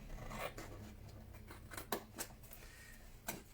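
Scissors snip through excess tape in several short, crisp cuts spaced unevenly, close and fairly quiet.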